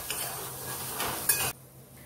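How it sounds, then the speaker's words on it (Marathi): Chickpeas sautéed with a pinch of turmeric in a pan hiss softly while a spoon stirs and scrapes against the metal, ending in a brief clatter before the sound drops away. "याच्यामध्ये परतताना अगदी किंचितशी हळद टाकायची आणि 1-5 मिनिट हरभरे छान परतून घ्यायचे आहेत"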